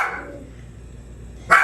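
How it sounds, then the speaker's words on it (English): A dog barks in a home kitchen: one muffled bark at the start, a quiet gap, then a sharp, loud bark close by at the end. "That's my dog"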